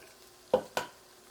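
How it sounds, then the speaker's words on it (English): Two eggs cracked into a mixing container, two quick, sharp taps of shell close by, a fraction of a second apart, against a quiet kitchen background. "I'm going to break in my mixing container over here 2 eggs"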